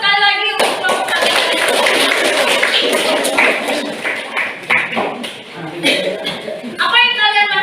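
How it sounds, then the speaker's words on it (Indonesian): Students in a classroom give group 1 another round of applause, steady clapping running for several seconds with some laughter, set between stretches of a teacher speaking. "beri aplaus sekali lagi untuk kelompok 1"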